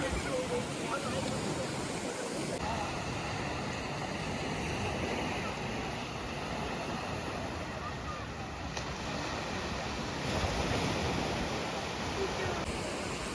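Steady broadband rush of Mediterranean surf on a beach in Alicante, continuous and fairly loud, with wind noise and a thin high whine running through most of it.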